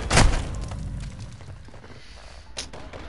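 A Semtex grenade detonates in a video game with a loud close blast at the start, followed by scattered quieter gunfire pops and a sharper report near the end.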